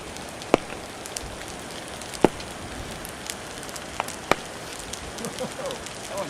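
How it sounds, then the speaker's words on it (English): Hail falling in chunks during a mountain thunderstorm on a high alpine pass, heard as a soft continuous patter with a few sharper nearby impacts scattered through it. "there are these chunks of hail coming down"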